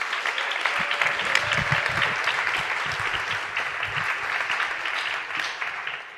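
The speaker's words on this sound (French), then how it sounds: "On l'applaudit bien fort." An auditorium crowd at a science-communication contest greets the next speaker with loud, sustained applause, a thick continuous roar of clapping with a few nearer, heavier claps early on.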